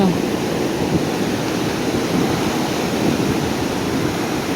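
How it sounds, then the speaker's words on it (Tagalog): Big ocean waves crash and strong wind roars during a super typhoon with monsoon winds, a loud, continuous wash of surf and gusts buffeting the microphone, with faint talk underneath. "lalaki ng mga alon."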